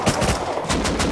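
An AK rifle in the video game Rust fires a rapid, loud automatic burst of closely spaced shots filling the whole moment.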